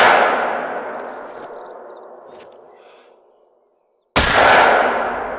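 A single sharp hunting rifle shot in theHunter: Call of the Wild with a long decaying echo tail, followed by silence and then a second loud blast near the end.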